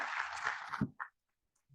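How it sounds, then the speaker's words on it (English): Audience applause at a conference plenary session on diplomacy, a short burst of clapping from the hall that stops abruptly, followed by a couple of faint thumps and near-silence. "Senor Duran, we can applaud him."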